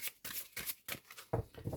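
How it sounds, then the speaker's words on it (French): Tarot cards being shuffled by hand for a nine-card reading, a quick run of rhythmic riffling bursts with short pauses, close and fairly quiet. "Je vais vous faire un tirage en 9 cartes et Capricorne"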